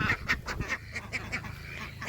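Ducks on a farm quack in a quick series of close, loud calls, roughly five or six per second at first and then slightly sparser, with no talk.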